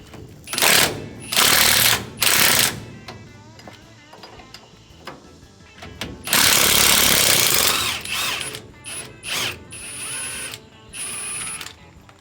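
A power tool backs a fastener off counterclockwise on a 1967 Chevy truck, running in several loud close bursts of whirring and rattling with pauses between, then one longer continuous run and a few shorter ones.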